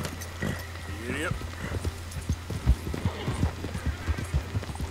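Horse hooves clip-clop in Red Dead Redemption 2, a steady run of close hoofbeats with a brief whinny early on, over a low game hum while a person talks.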